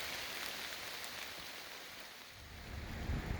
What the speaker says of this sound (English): The rain showed no sign of stopping